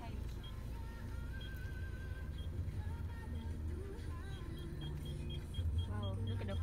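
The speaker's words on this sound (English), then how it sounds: "We got car behind me." A car idling or passing close behind on a hot street, a steady low engine rumble with traffic hum, under voices talking.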